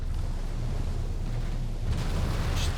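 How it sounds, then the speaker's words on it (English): Naval battery gunfire from warships in the game Victory at Sea Pacific rumbles as a continuous deep roar of explosions, with a sharper burst near the end and no voices over it. "Just battery fire."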